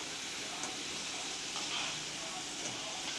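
Wheat snack pieces fry in hot oil while being stirred, giving a steady, dense sizzle and crackle throughout with faint scraping from the stirring.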